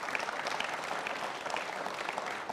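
Conference audience at a Welsh Conservative gathering applauding steadily, a dense wash of many hands clapping at even volume throughout, with no voices rising above it.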